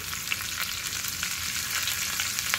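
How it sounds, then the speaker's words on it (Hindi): Steady, continuous sizzling of green chillies frying in oil, with faint scraping clicks from stirring in the pan, close and fairly loud throughout. "अच्छे से हम थोड़ा सा इसे हिला देंगे ताकि जो हरी मिर्च है अच्छे से फ्राई हो जाए"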